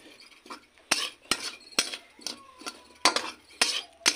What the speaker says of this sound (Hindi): अब हम इसमें डाल देते हैं थोड़ा सा मसाला, इसको अच्छा तरीके से चलाना है।